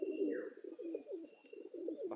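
Pigeons in a loft coo softly in repeated low rolling calls, close and quiet, with a faint chirp in the background.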